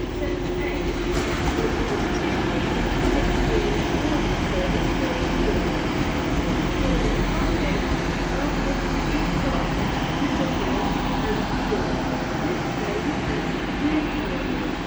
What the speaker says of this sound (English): And now coming in is a Transpennine Express Class 185, 185, 107 to Saltburn